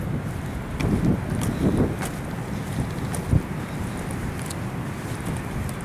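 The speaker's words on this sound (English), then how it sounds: "Yeah, it's cold today. It's windy." Steady, cold wind at the seaside roars and buffets the microphone in low gusts, with no voices, only a brief thump partway through.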